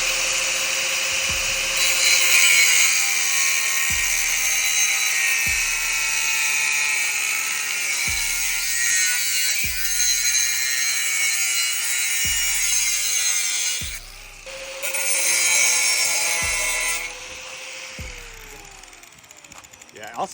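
A power saw cuts through a Toyota Tacoma exhaust pipe end piece with a steady, loud, high-pitched grinding whine that runs nearly continuously and briefly drops out midway, overlaid with regular low thumps close by.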